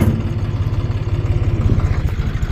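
A tractor's diesel engine idles steadily at close range, a low rapid chugging pulse with no voices.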